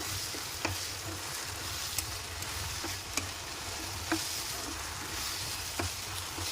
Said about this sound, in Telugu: కొత్తిమీర మొత్తం అందులో కలిసేలాగా కలుపుకుందాం.